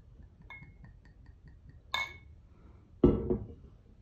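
Glass clinks as bacon-washed bourbon is poured: a light tap, then two sharper, louder clinks with a brief pour, close up in a quiet room with no talking.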